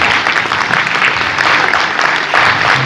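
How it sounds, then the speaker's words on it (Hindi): A crowd claps loudly and continuously at a women's club installation ceremony, dense applause filling the whole moment without pause. "अरे वाह, ताली का प्रोग्राम है।"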